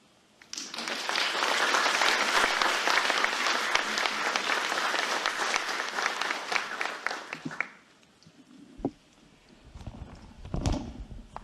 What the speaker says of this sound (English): giving the Ambassador one more round of applause